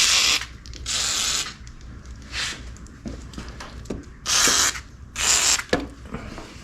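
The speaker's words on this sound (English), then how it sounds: "You know what? I'm gonna hit some WD-40." WD-40 sprayed onto bolts while removing a Honda engine, heard as several short hissing bursts close by, separated by faint clicks and mechanical handling noises, with no talking.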